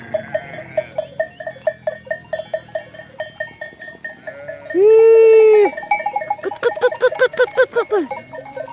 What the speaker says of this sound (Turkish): Koyunlar yavrularından beraber gezmeye gidiyorlar akşam gezintisine.